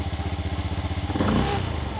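A freshly repaired motorcycle engine idles nearby with a fast, steady putter, then briefly revs up louder before settling back.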